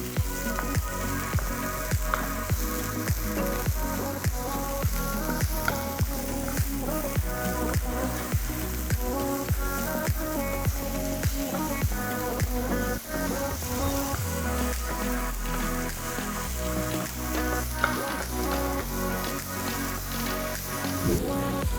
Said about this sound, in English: When you're cooking your ground beef, you want to make sure that you make it well done